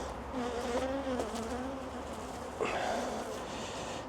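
Honey bees buzzing steadily and up close during an inspection of an open beehive, a continuous drone with wavering tones that rise and fall.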